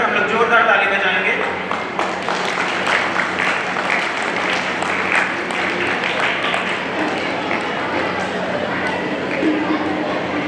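Audience applause at a diocese Sunday School Day event welcoming a judge, a sustained crowd clapping heard close and fairly loud, with talk running through it.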